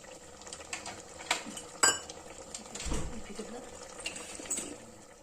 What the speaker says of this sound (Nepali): मजाले चलाउनु पर्छ।